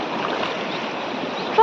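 Legs wade through a deep river beside farm fields, a steady rushing and swishing of water heard close and continuous, with a faint voice in the background.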